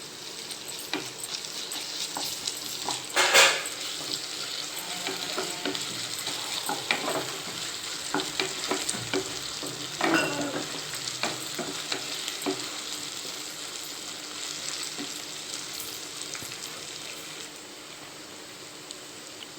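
Ginger garlic paste fries in a pan for a jackfruit curry, a steady close sizzle with occasional stirring scrapes and a louder spatter near the start.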